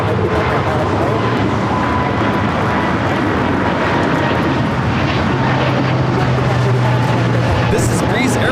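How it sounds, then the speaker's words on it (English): A Breeze Airways Airbus A220-300 rolls for takeoff at LAX, a steady, loud jet roar that swells through the run with a low engine drone building near the end, and faint voices under it. "This is Breeze Airways 535 taking off to Richmond, Virginia on the A220-300."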